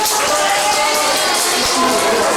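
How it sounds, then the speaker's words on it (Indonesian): Students in a high school classroom role-play lesson clap together, a dense, continuous patter filling the room at fairly loud level, with some voices mixed in. "Tepuk tangan."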